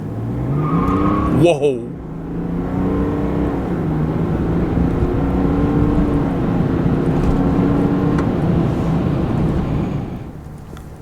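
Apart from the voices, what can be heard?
Chevy Silverado Duramax diesel truck accelerating 0-60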